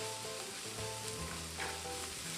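Fresh carrots frying for special fried rice produce a dense, steady sizzle close up, with faint tonal hum underneath and no clear stirring strokes.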